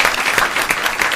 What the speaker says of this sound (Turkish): İki şey için alkışlıyoruz.